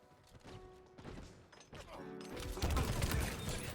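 Rapid video game gunfire, a busy burst of shots and impacts that builds to a louder, denser volley near the end, heard up close with game sound effects around it.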